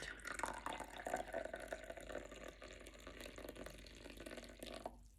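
English breakfast tea pours from a teapot into a cup, a soft trickling and splashing stream over a few seconds that stops abruptly at the end, quiet and close with no talk.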